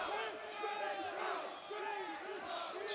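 At a CS:GO esports quarter-final between Luminosity Gaming and Virtus Pro, a large arena crowd cheers and chants in a steady, sustained roar that swells in waves, heard from a distance.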